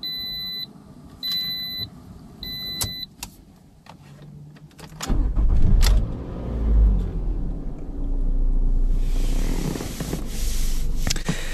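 A 2010 Toyota Matrix S with 120K miles gives a few interior chime beeps, then its engine starts and rumbles low as the car drives off, the steady road hum swelling and easing with no talking.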